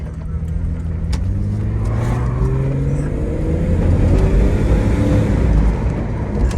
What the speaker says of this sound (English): That's hitting the gas pedal down a good bit. So you can see that it's accelerating